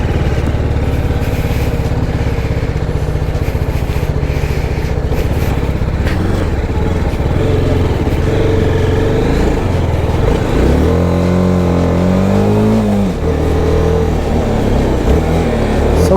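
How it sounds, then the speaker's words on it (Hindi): A new motorcycle's engine runs loud and close while being ridden, a steady drone with wind rumble and a rising then falling rev near the end; no speech. "हम चला रहे हैं लोड भैया की बाइक।"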